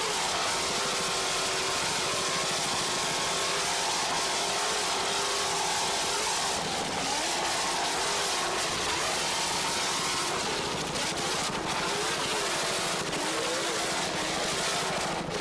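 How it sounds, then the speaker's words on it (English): A 32-foot offshore superboat powered by twin 650 hp Zool racing engines with Mercruiser drives roars past during a 1993 US offshore race, a constant loud drone with a wavering engine pitch that shifts as the boat runs. "32-foot superboat, and it's powered by two 650 horsepower Zool racing engines with Mercruiser drives"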